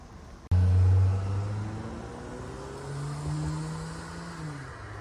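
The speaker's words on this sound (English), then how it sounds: "that reminds me with the car going by" A car drives past on a street right beside a beehive yard, a loud low rumble that swells at once and holds, then a second engine surge later as the vehicle carries on nearby.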